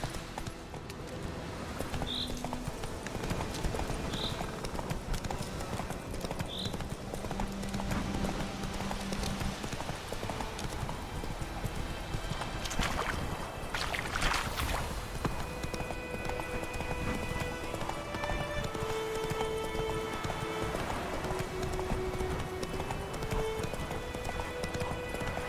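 A horse gallops in The Witcher 3: Wild Hunt, its hooves beating a steady, rapid clip-clop for the whole stretch under soft game ambience, with a few brief tonal cues and rain in the background.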